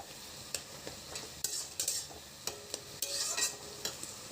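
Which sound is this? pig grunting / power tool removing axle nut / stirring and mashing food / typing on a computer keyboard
stirring and mashing food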